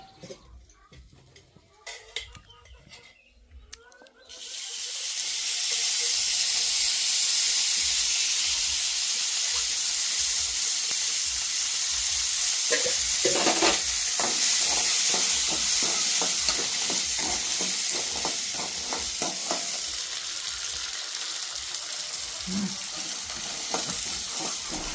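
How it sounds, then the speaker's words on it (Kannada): Fresh green peas frying in oil for a village-style gravy. After a few quiet seconds, a loud, steady sizzle and hiss starts and continues throughout, broken by clattering stirring sounds. "ಮೊದಲಿಗೆ ಏನಂತಿಲ್ಲ ಎಣ್ಣೆ ಒಳಗೆ ವಟಾಣಿ ಅಂತ ಹುರಿಯಾಕತ್ತೀವಿ ನೋಡಿರಿ"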